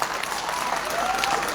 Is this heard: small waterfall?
no